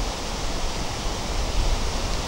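Steady, loud broadband rushing of wind buffeting the microphone, constant throughout with no voices.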